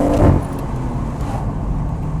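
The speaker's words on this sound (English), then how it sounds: "And this is a straight six." A de-catted BMW M140i straight-six revs hard up close, a loud throaty burst in the first moment settling into a steady droning engine note with road noise underneath.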